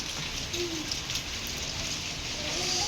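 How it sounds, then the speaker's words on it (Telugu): Heavy rain pours in Ongole, a dense, continuous wash of patter heard close and fairly loud, with faint brief tones over it. "ఒంగోలు వర్షం పడుతుంది"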